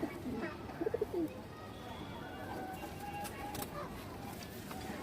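A large green-throated female pigeon of Bagha style coos in a few short, close notes near the start, then fades into a steady background hum for the rest.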